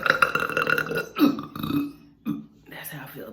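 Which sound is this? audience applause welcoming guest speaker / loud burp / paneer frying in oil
loud burp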